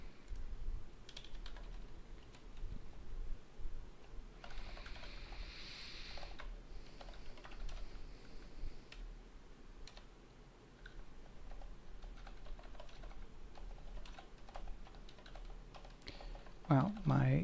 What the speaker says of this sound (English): my typing is just totally fucked right now